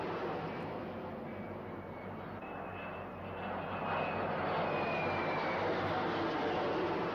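Propeller and jet aircraft engines of a carrier task force's planes flying together in a raid, a steady loud droning roar that swells slightly louder partway through, alone without speech.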